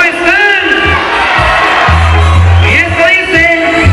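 A live music event crowd roars and cheers loudly as a band is welcomed, with shouts and whoops over a low amplified rumble and a voice talking through the noise.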